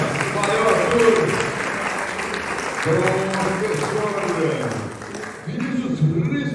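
University talk show audience applauding, steady clapping under lively voices and chatter that continue on top of it.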